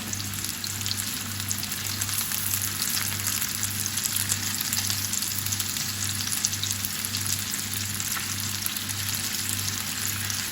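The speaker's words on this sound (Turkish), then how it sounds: "kızartmaya başladık" Continuous crackling sizzle of food frying in hot oil, steady and dense throughout with a low hum underneath, no voices.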